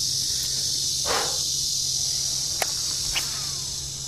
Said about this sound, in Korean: 귓가를 울리는 매미 소리가